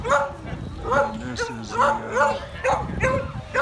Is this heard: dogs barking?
yes